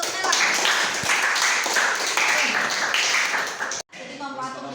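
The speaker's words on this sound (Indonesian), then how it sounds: "Tepuk tangan untuk Nela." A junior high school class claps for a student, dense overlapping applause filling the room for several seconds, then cutting off as a voice begins speaking.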